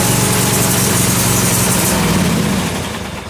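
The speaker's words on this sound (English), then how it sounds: "It has enough power to start my mower." A riding mower engine, started from a 12V battery, runs loud and steady close by with a rough mechanical drone, then fades slightly toward the end.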